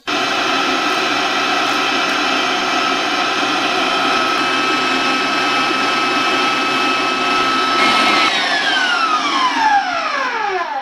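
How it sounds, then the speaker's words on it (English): An electric mixer beats egg whites and sugar for a lemon meringue topping, a steady loud motor whir running alone throughout, with the pitch sliding down near the end as it winds off. "So you'll turn on your mixer and just add 1 until it's incorporated. And you're going to beat that until smooth,"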